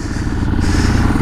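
A Royal Enfield Classic 500 motorcycle engine thuds steadily in Ladakh, a close, loud, low chugging rumble with a rapid regular beat, with no voices.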